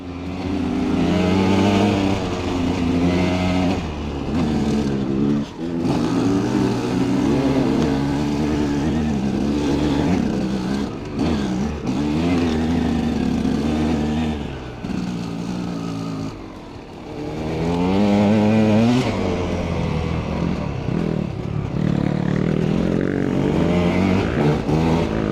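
Dirt bikes, a KTM among them, climb a bush mountain track, engines revving hard and continuously up close with gear changes and surging throttle throughout.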